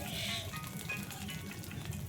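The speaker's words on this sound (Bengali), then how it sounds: "সয়াবিন বড়িগুলো দিয়ে একবার লাল লাল করে ভাজা ভাজা করব" Soybean chunks fry in a pan over a village earthen stove, giving a soft, steady sizzle throughout at a low, even level with no talking.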